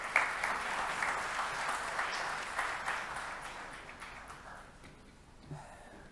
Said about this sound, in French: Je vous propose de l'accueillir sous vos applaudissements